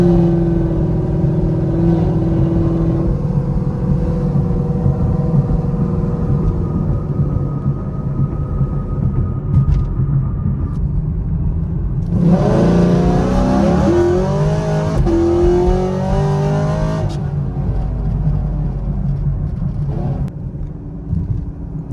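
A Dodge Viper with a heads, cam and intake build, naturally aspirated at 560 horsepower, launches down a drag strip; a loud, steady engine roar climbs through the gears with a sharp rising surge midway, traction control briefly intervening.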